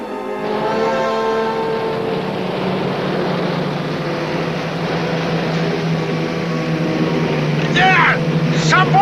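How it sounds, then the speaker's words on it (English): A motorboat engine drones steadily throughout, a low continuous hum with water noise, and a few faint chirping sounds near the end. "There! Some boats!"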